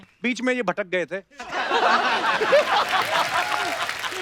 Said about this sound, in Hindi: आजा कृष्णा, इनके लिए जोरदार तालियां।